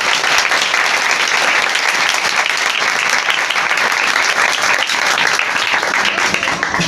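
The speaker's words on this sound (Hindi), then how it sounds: "जोरदार तालियां खुदा के दिलाने के लिए।" A church congregation bursts into loud, sustained applause, dense clapping filling the room steadily from start to finish with no speech over it.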